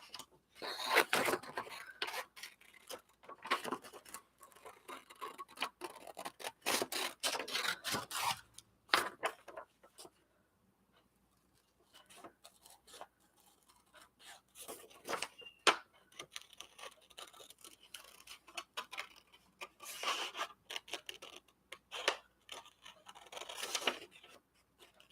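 Scissors snip through fabric while cutting out a rag doll's head along the outer pattern line, giving bursts of crisp close snipping and rustling, a quieter pause midway, then more cutting.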